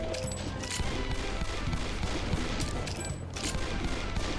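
Pistol fire in the Mario 64 Doom mod Golden Souls, with repeated gunshots and blasts in a dense, loud burst over continuous game noise.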